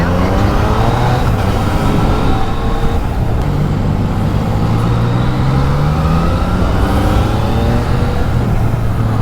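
A Yamaha XSR900 motorcycle engine rides along the SLEX expressway at rush hour, a steady loud drone with rising and falling tones as it revs and shifts, amid continuous road and traffic noise.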